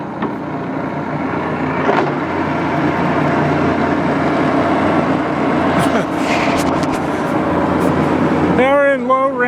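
An old Axelson lathe runs in low range at 308 RPM, a steady machine drone and rumble filling the shop, with someone talking over it.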